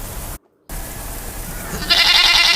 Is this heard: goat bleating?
yes